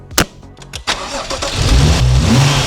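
A few clicks and a cranking starter, then a modified BMW M135i engine catches and settles into a loud, rumbling idle close by, heard from the rear exhaust.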